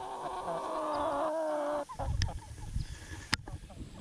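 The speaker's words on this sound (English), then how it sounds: "Let's look at the chickens." A drawn-out chicken call, then scattered clucks and rustling nearby, with sharp knocks in between.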